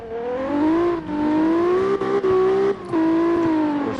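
A car engine in the racing game CarX drifts closer, its revving tone rising and holding with brief dips as the throttle shifts, loud and near.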